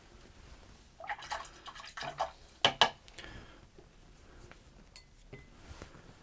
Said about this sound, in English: Each time I rinse the brush and I get fresh water.